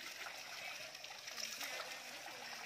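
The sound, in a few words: flowing water, holy Ganga water at temple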